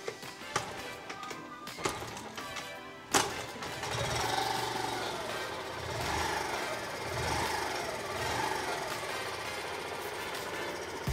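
Honda Monkey 50cc fuel-injected motorcycle engine, kick-started, with a few sharp knocks and then a steady low idle that rises and falls slightly, near and moderately loud.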